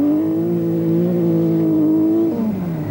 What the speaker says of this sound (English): Saeed Al-Hadri in his Rothmans Porsche, who obviously finds the Greek roads rather more testing as he spins